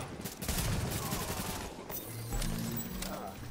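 Dense, rapid gunfire from a firefight in the video game The Division on Xbox One, with overlapping bursts and shots that continue loud and unbroken throughout.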